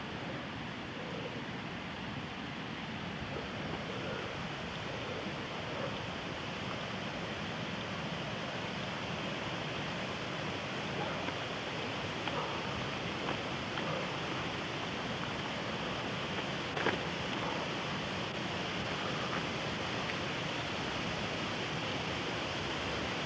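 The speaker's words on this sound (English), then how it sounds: "And this is the waterfall at Ridley" A waterfall on a creek roars steadily for the whole stretch, a dense unbroken rush of water with no voices.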